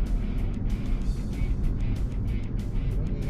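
A manual car cruising at 60 km/h in fourth gear gives a steady, loud low engine and road drone from inside the cabin, with no change in pitch.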